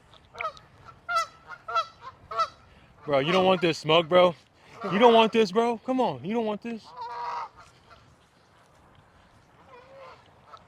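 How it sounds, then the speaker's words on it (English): A goose perched up in a tree honks repeatedly in loud, harsh bursts, close by, while someone talks over and between the calls at a tournament park. "When's the last time you seen a goose in a tree"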